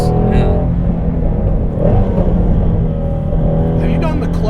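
A Ford Shelby GT350 Base rumbles with a loud, deep, close engine note that holds steady throughout, while people talk over it.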